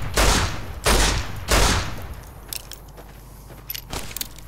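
Gunfire in the video game Fallout: New Vegas: three heavy, booming shots about a second apart, followed by quieter clicks and metallic ticks, with a fainter shot near the end.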